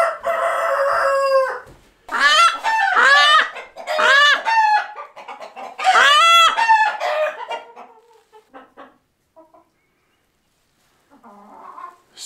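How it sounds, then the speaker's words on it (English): Roosters crow loudly and close by on a farm with Light Sussex and Leghorn chickens. Several overlapping crows come in quick succession, then fade to faint clucking and quiet. "The crow of the roosters are very strong, very precise."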